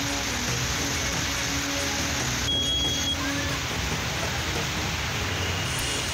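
Heavy rain falling over waterlogged city streets in Bengal, heard as a dense, unbroken roar of hiss that stays loud and constant throughout.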